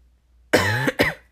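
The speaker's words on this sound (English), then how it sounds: "Excuse me, first cough" A single harsh cough, close and loud, followed right away by a shorter second cough, with near silence before it.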